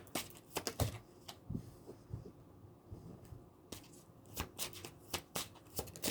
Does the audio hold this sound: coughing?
no